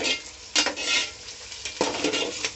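Curry leaves frying in a pan for drumstick tokku, a sizzle broken by several scraping stirs of a spoon against the metal, close and moderately loud.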